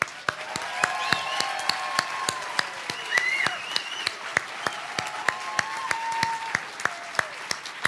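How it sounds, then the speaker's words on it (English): Scattered, fairly sparse clapping from an audience at a nursing pinning ceremony, individual sharp claps standing out over a soft crowd wash, with a few whoops and cheers rising briefly. "Can we give them another round of applause?"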